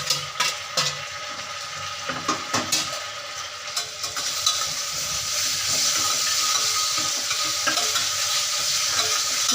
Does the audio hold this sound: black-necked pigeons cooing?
no